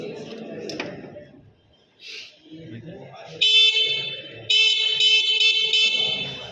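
A vehicle horn blares in two sustained blasts during a wiring test, loud and close, after a stretch of quieter handling noises and a brief voice.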